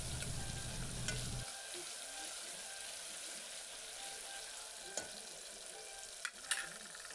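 Tomato frying in a pan with added spices, salt and turmeric for a rural-style mung dal dish, giving a steady close sizzle throughout with a few faint clinks of stirring.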